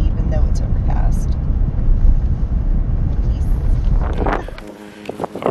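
Strong wind on the trail to Mesa Arch in Canyonlands National Park buffets the microphone with a loud, steady low roar, with a voice briefly heard near the end.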